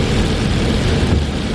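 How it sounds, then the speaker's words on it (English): Heavy rain pours outside as a steady, dense hiss with low rumbling, constant and fairly loud, with no voices. "the rain's really coming down out there"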